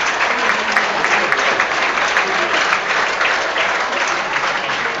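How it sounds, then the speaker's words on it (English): Sustained applause from a large crowd at a football match, dense steady clapping echoing across an open stadium for several seconds as players leave the pitch after their warm-up. "That applause is for the Altrincham players coming off the pitch at the end of their warm-up."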